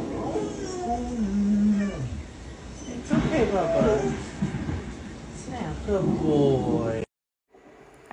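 A pet cat meows repeatedly while a Stray video game plays, its drawn-out, wavering calls loud and close, with game sounds underneath and a brief silence near the end.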